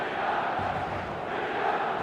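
A match-day stadium crowd in the eFootball 2026 football game roars as one steady, dense wall of noise, holding loud and even for the whole stretch with no voices standing out.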